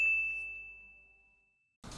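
A single bright bell ding rings out clearly and decays slowly over more than a second into silence, before a short burst of other noise cuts in at the end.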